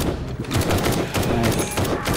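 Rapid bursts of gunfire in the zombie survival game 7 Days to Die, dense overlapping shots fired continuously and close.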